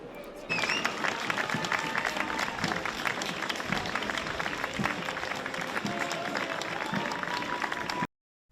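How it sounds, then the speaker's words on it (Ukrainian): An audience gives an ovation to Ukrainian soldiers greeted by King Charles III. Loud, sustained clapping with a crowd murmur starts sharply and runs steadily for several seconds before cutting off. "публіка зустріла їх оваціями"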